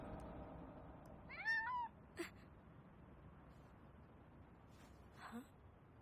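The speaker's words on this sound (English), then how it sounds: "It's a cat." A single cat meows once, a short rising-and-falling call, fairly close but soft, followed by quiet background noise and a couple of faint breathy sounds.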